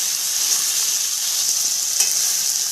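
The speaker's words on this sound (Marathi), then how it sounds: "हे टोमॅटो आता टाकून देते एक मिनिटभर टोमॅटो पण आपल्याला तेलावर परतून घ्यायचं आहे" Chopped tomatoes fry in oil in a pan, producing a steady bright sizzle close by, with a soft stirring scrape partway through.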